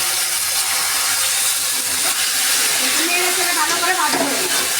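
Taro root (kachurmukhi) frying in hot oil with dry red chilli and bay leaf produces a loud, steady, close hiss of sizzling, with a faint voice briefly audible beneath it toward the end.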